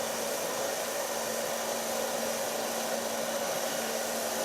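A hair dryer blows through a hair brush at close range, a constant airy whoosh with a low motor hum throughout.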